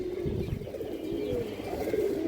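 Soft, low cooing comes from an old male Mushol pigeon with a boot-shaped beak, a quiet rolling coo close by that carries on through the short stretch.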